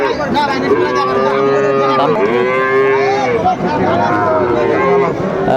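Sahiwal bull calves moo loudly and repeatedly up close at a cattle market, long drawn-out lows overlapping, with people talking in the background.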